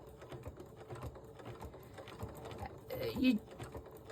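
Sewing machine stitching a quilt panel with metallic thread, a faint quick mechanical patter of the needle that runs steadily and rises briefly near the end, under quiet talk.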